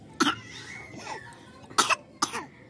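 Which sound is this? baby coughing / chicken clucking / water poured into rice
baby coughing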